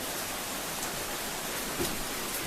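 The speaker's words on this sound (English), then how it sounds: "It's raining cats and dogs, and it's supposed to rain for the next 5 days." Heavy, steady rain pouring down outdoors during a prolonged storm, a dense, even hiss of water that stays constant and fairly loud throughout, with no voices over it.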